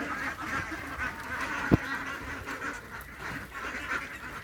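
Grown ducks give a continuous chorus of overlapping quacks, a close, moderately loud flock calling with no pause and one sharp knock partway through.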